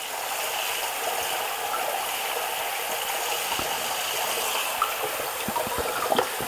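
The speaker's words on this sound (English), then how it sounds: "run a bit of water through it" Tap water runs through a part of a FRIDJA masticating juicer during cleaning, a steady close rushing stream broken near the end by a few light clicks and knocks from the plastic part.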